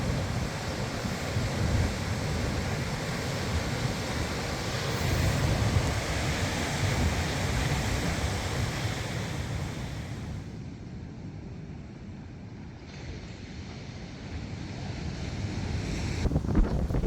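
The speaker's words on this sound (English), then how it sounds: "Hello, Pacific Ocean." Pacific Ocean surf breaks on a Baja beach under strong wind, a continuous roaring wash with heavy wind buffeting the microphone that eases slightly partway through and then returns; no speech.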